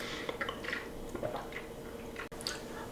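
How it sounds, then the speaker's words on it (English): Water being drunk from a bottle before a breakfast shake: soft, close wet gulps and swallowing sounds with small liquid squishes over about three seconds, fairly quiet. "but first I like to drink water"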